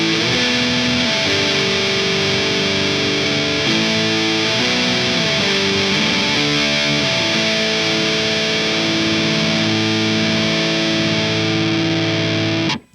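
Electric guitar chords through a Mesa Boogie Triple Rectifier or Carvin V3M amp's distortion channel with a shimmering chorus tone, played steadily in a loud riff with no talking.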